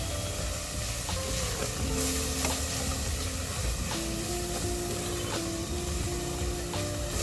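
Pav bhaji masala and turmeric roasting in a pan for Mumbai street-style pav bhaji, a dense, continuous close sizzle with periodic stirring scrapes and a faint steady tonal hum underneath.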